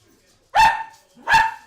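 A female dog barks twice, loud and close, with a short pause between the two barks, indoors at home during a live rugby watch-along.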